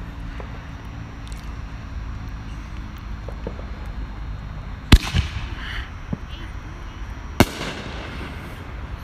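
Ball shell fireworks burst outdoors in two sharp, booming reports several seconds apart, each followed by a short crackling tail, over a constant low background rumble.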